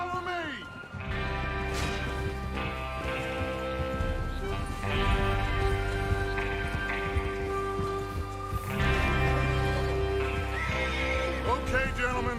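Horses in Red Dead Redemption 2 whinnying loudly several times while hooves clip-clop steadily underneath, with voices talking over the scene.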